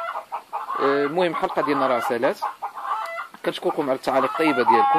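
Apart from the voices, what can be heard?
chickens clucking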